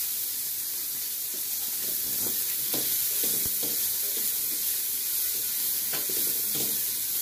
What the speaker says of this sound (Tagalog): Isahin na po natin ang bawang. Sama na din po natin ang sibuyas.